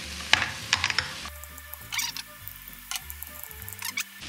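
Noodle mixture frying in oil and being stirred for a viral Korean noodle dish, with clattering scrapes and light sizzle in repeated stirring strokes, close and fairly quiet.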